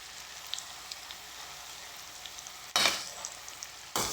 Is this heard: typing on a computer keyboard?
no